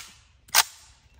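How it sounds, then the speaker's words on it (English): A homemade tennis ball launcher fires a blank straight upward, giving one sharp, loud bang that rings briefly and fades into quiet outdoor air. "we're gonna fire it directly up, see how high it goes"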